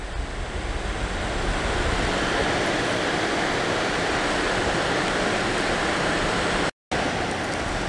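A Sharp Plasmacluster air purifier blowing on high mode gives a steady, dense rush of airflow noise close to the microphone, constant throughout apart from one very short dropout near the end.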